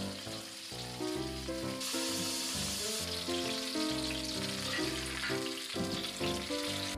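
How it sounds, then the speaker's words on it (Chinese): Beef steak pan-frying in olive oil in a hot skillet, a dense continuous sizzle heard close up without speech, while music plays throughout. "平底锅烧热，倒入橄榄油，牛排一面煎大约2分钟。"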